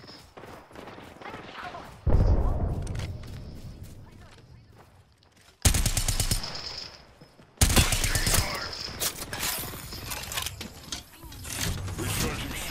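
Rapid bursts of assault rifle fire in Apex Legends, loud and close, broken by short pauses, with mechanical clicks and reload clatter between the volleys.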